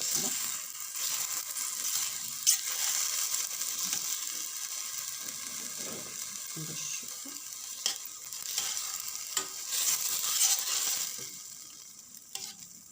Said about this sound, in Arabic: استمر هذا التحريك شي شويه، نقصو البصل باش ما تحرقش لينا